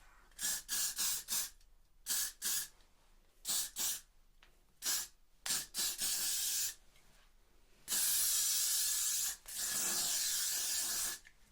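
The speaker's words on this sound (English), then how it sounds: "Let me spray what we've got so far." Short hissing bursts of hairspray on a wig repeat in quick succession, followed by two longer continuous sprays, close and crisp with no talking.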